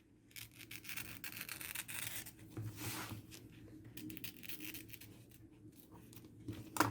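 Embroidery thread snipped close to a stitched embroidery bar, giving soft, close rubbing and scraping textures over faint steady hum, with no speech.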